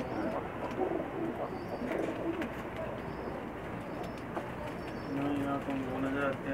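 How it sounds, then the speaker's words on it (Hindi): Pakistani pigeons cooing softly in a loft, low repeated coos over a steady bed of background noise, with faint chirps and no clear voices. "मुझे उम्मीद है आप दोस्तों को ये तमाम के तमाम कबूतर पसंद आएंगे।"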